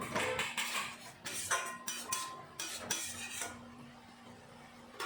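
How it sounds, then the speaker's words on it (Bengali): A utensil scraping and clinking against a pan while spices, oil and sugar are stirred together for a Bengali fish curry with drumsticks: irregular bursts of stirring and tapping, then a quieter stretch near the end. "এখন ভালো করে মিশিয়ে নেব"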